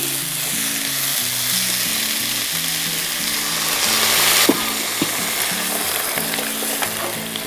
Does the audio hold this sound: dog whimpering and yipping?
no